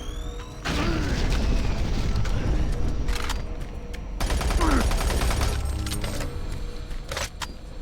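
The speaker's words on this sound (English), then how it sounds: "Grenade." Grenade blasts and gunfire in Doom 3: BFG Edition ring out as a loud, dense run of booming explosions and rapid shots, with a brief lull between two heavy bursts and a voice faintly under the combat.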